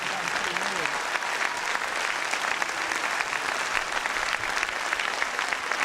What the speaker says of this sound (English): A warm, warm round of applause,